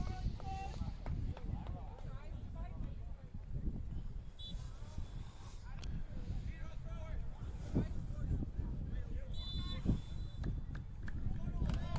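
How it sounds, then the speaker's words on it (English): Wind gusts across a high school varsity soccer field during a boys' match, a steady low rumble of buffeting against the microphone that runs throughout, with faint scattered voices and whistles in the distance. "The wind is definitely coming across the field from the far side towards where our camera angle is here."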